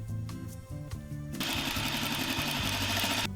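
A sewing machine runs a quarter-inch French seam on ruffle skirt fabric, first in short stuttering bursts, then a steady close loud whirring run of stitches that stops abruptly.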